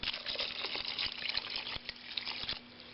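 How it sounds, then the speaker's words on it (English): Water pours steadily into a pot of Iranian beef stew with turmeric, tarragon and onion, a close, continuous splashing trickle lasting the whole stretch with a few brief drip-like accents. "now I'm going to add water."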